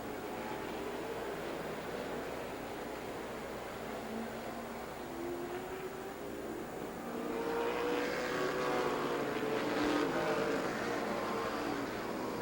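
Race cars roar around Rockford Speedway at the green flag on opening night, a steady broad engine drone that swells louder midway as the pack accelerates past, heard alone without talk.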